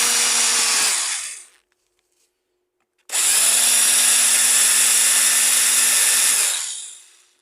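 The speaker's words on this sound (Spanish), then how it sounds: "aquí tenemos nuestro taladro con una broca" A power drill with a bit bores into the center of a PC cooling fan, whining loudly in a short burst, falling silent for a moment, then running again in a longer, steady high-pitched whir that winds down.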